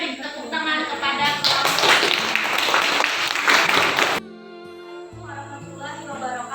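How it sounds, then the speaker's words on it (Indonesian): Classroom audience clapping together in a dense burst of applause for about four seconds, with a voice over it, before the clapping stops and a single speaker continues talking. "Kita beri tepuk tangan kepada"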